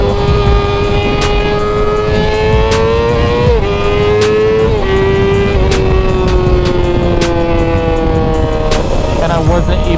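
A 600cc motorcycle accelerating hard on an expressway, its engine climbing in pitch through several quick gear changes, loud and close with steady wind rush.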